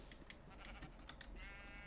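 A sheep in the Minecraft Thaumcraft mod bleats amid steady game background noise, the wavering cry rising near the end of a short stretch without talk.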